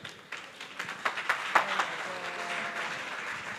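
Audience at a career expo breaks into applause, starting with a few scattered claps that build into a brief, moderately loud round of clapping, with some faint voices beneath.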